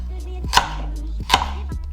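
A knife chops thick slices of carrot on a board for a slow-cooked beef and red wine stew, with two distinct close chops and a faint low hum behind, no talk.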